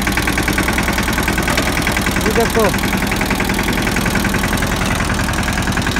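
A farm tractor with a broken gear idles slowly and steadily close by, its loud engine knocking in an even rhythm, while someone talks briefly over it.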